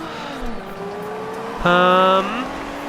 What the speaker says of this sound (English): Oh, spinning wheels.